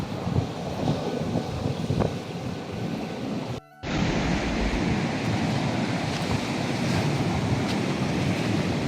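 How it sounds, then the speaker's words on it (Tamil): Sea waves break steadily on the shore off Mullaitivu in a continuous broadband wash with wind noise, broken by one brief dropout midway. "கடல் அலைகள் எழுந்து"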